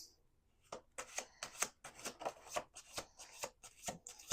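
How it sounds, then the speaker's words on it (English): Tarot cards shuffled on a table in a quick run of crisp riffles and slaps, close and clear, with no voices. "Let's do 2 more shuffles."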